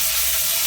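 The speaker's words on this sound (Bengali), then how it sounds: "ভাজা ভাজা করে নিই, লাল লাল ভাজা ভাজা হয়ে যাবে" Baby corn fries in hot oil, giving a brief, steady, loud hissing sizzle with no voices.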